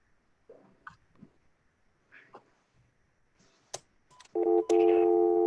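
Phone dialing into a board meeting conference line: a few scattered faint clicks and blips, then clear steady dual-tone beeps rising loudly near the end.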